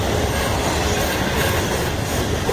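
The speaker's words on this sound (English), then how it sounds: "Yeah, two trains." CSX freight trains roll past eastbound in Blaisdell, Buffalo, New York, a loud, close, steady rumble of railcars with clicking wheels over rail joints and a faint squeal of steel wheels.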